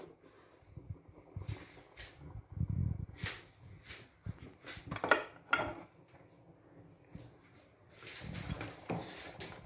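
Chopped onions tipped into a cooking pot for pondu (saka saka), with clattering pot and utensil clinks in scattered bursts, fairly quiet, amid faint kitchen movement.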